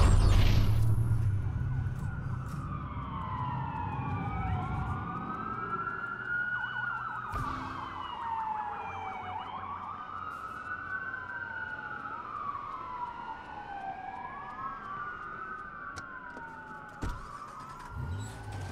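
Several emergency vehicle sirens wail and sweep in overlapping rising and falling tones during a blackout in the video game Watch Dogs, loud and sustained over a low rumble of city noise.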